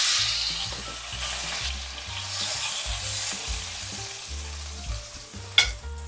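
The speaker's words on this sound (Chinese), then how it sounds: "油热倒入葱花爆香" Chopped scallions hit hot oil in a wok and sizzle loudly and steadily at close range, a dense crackling hiss that holds throughout with a brief sharp clank near the end, over soft background music.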